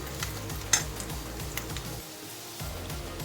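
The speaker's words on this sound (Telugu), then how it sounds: "ఇప్పుడు కరివేపాకు వేసుకుందాం ఉల్లిపాయలు బాగా వేగనీయాలండి" Onions and curry leaves fry in a pan for a Telugu-style stir-fry, with a soft continuous sizzle, close-up, broken by rhythmic scraping and tapping of a spatula stirring and a brief pause near the end.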